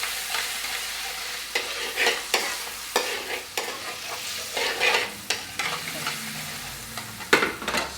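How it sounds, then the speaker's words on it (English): Prawn vindaloo sauce with tomato puree sizzles steadily in a hot pan, a continuous close frying hiss broken by repeated bursts of stirring and scraping. "So that's sizzling up really nicely now."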